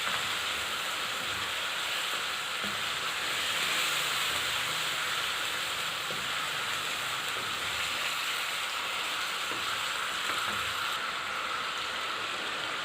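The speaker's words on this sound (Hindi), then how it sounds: "इसके साथ ही हम फ्राई करेंगे।" Ginger garlic paste frying in oil for a highway-style chicken karahi, a steady hissing sizzle that keeps going at an even level, with no talking.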